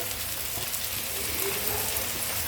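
Water poured into a pan of fried spice paste for an egg bhurji curry with potato and onion, a steady close sizzle and hiss with soft spattering throughout.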